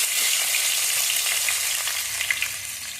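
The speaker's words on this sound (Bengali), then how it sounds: "টমেটোগুলোকে একটু ভেজে নেবো" Tomatoes and potatoes fry in a pan with a steady, close sizzle that holds throughout, broken by a few small pops and stirring scrapes near the end.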